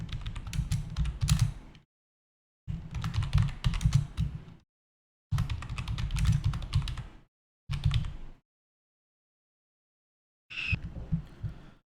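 Bursts of rapid keystrokes on a computer keyboard, entering a name into a form, arriving in four clusters of a second or two each with silent gaps between and a final short burst, close and clear with no talking.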